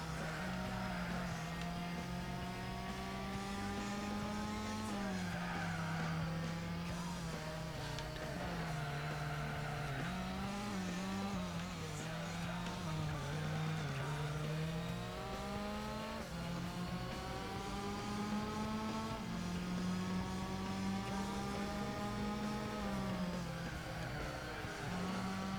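Race cars from the video game Gran Turismo 4 run on an x86 retro emulation machine. Engines whine and rev continuously, climbing and dropping in pitch through gear changes, loud and steady throughout with no talk.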